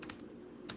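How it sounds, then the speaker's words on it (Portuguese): Quick burst of keystrokes on a computer keyboard as a name is typed into a spreadsheet cell, a short run of soft clicks with a slight pause, close and fairly quiet. "você vai escrever aqui Rafael"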